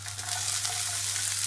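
Onion and garlic sizzle in a hot pan with rice being toasted for Greek dolmades, a steady close frying hiss with a low hum underneath and no talking.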